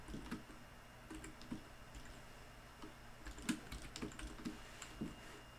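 Typing on a computer keyboard, faint, irregular clicking keystrokes in short scattered bursts over a low background hum, no voices.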